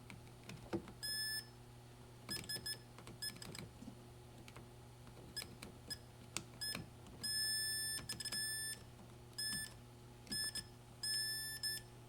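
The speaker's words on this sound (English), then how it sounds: "Gonna check continuity across these bars." A multimeter beeps during a continuity check across the bars of electronic equipment, sounding short, high, intermittent tones in irregular bursts amid faint probe clicks in a quiet room.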